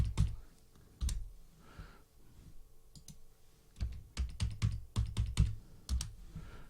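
An amount is entered on a computer keyboard, with scattered key taps early on, then a denser run of quick, close clicks toward the end and no talking.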